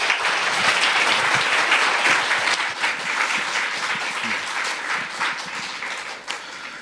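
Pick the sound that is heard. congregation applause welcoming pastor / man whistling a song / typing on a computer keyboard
congregation applause welcoming pastor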